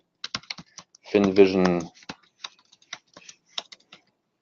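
Typing on a computer keyboard during data entry, with sparse, irregular key clicks spread across the clip and a short burst of talking in the middle.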